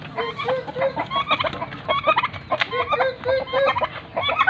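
Several turkeys gobbling in rapid, warbling bursts close by, with overlapping calls and some clucking from other fowl.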